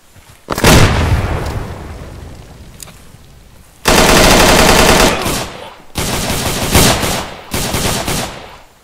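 Frag grenade blast amid gunfire in a Vietnam-era special operations video game, a sharp close explosion followed by long loud bursts of rapid automatic fire in several sustained volleys.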